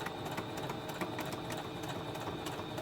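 Sewing machine back stitching pleats on a fabric mask, a steady rapid mechanical whir with fine rhythmic needle ticks, close and continuous.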